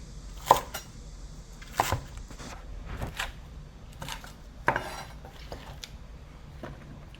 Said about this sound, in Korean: 대파 가운데로 이렇게 잘라가지고